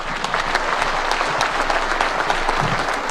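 An audience at a presidential event in Kenya claps steadily, a dense, sustained round of applause from a large crowd with no talking.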